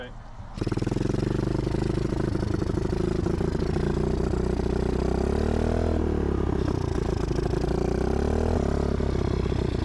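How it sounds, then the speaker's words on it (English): A dirt bike engine starts up and runs at a steady, loud, rattly idle close by, with slight revving swells, and a voice is faintly present under the engine. "So we're gonna go on these trails and we're gonna see how she rides."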